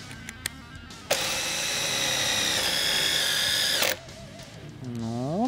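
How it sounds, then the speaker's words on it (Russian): A Makita 40V TD001 impact driver runs in T1 mode driving a long screw, a loud sustained hammering whine lasting about three seconds, cutting in sharply and stopping abruptly, with short clicks before and a rising tonal sweep after. "Проверяем длинные саморезы на 40-вольтовом ТД-001."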